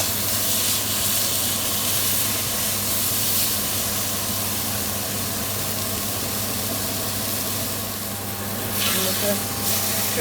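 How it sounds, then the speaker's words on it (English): A leg of lamb sears on a hot griddle for a Jamaican slow-cooked lamb dish, giving a steady, loud sizzling hiss with spitting steam that holds throughout, with no talk over it. "So I'm just going to seal it on all sides, turn on the pan."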